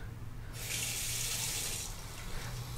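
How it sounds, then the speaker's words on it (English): Water runs steadily from a low-flow bathroom sink faucet, a soft hissing stream that starts after a brief moment, continues evenly, then eases back, heard up close and alone. "we can now go ahead and turn on our water valves to allow water through the hoses"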